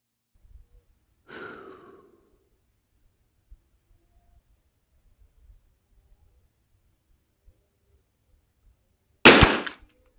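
A single sharp, loud report from a CZ457 rifle near the end, preceded by a soft breath and long stretches of near silence with faint small clicks.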